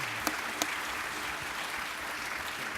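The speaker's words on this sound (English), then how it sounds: "how about a nice round of applause for our great panel today" Audience applauding a panel at a defense conference, steady dense clapping throughout, a couple of sharper claps early, no talk over it.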